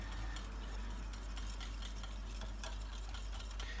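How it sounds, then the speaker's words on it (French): A utensil stirs protein pancake batter in a bowl after baking powder goes in. Soft, rapid, repetitive scraping and tapping sits over a low background hum. "je rajoute la levure chimique, à peu près voilà, comme ça. Et voilà, je vais mélanger encore 1 minute."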